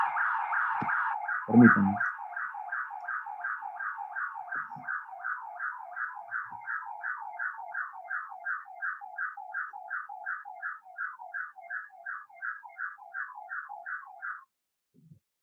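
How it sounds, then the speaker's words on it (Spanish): During a seismic design lecture, an electronic alarm nearby gives a long run of fast, evenly spaced pulsed beeps at steady loudness for about fourteen seconds before it cuts off. A brief spoken word comes at the start. "Discúlpenme, hay una alarma."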